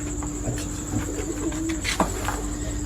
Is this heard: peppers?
no